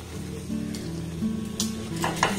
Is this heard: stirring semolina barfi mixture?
yes